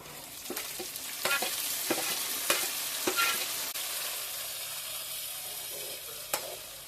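Onions and four chopped tomatoes frying in a pan for fish curry, giving a steady close sizzle with scattered sharp stirring clicks and scrapes, no talking.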